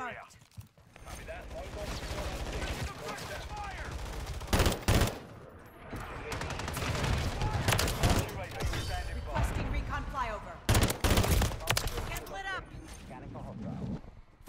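VTOL killstreak fire in Call of Duty MW3, heard as two sharp, loud gunfire bursts over continuous game noise, with a voice talking across much of it.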